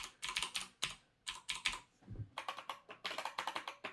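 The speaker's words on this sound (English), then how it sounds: "I kind of like slightly muted sound of this new keyboard" Rapid clattering keystrokes on a Corsair K100 mechanical keyboard, its switches slightly muted but still clicky, typed in quick bursts with short pauses between them, close to the microphone and with no voices.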